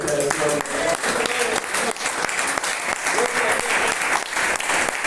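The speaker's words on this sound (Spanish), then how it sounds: "Denle un aplauso de Dios" Church congregation breaking into steady applause, a dense wash of clapping hands with voices speaking and calling out over it.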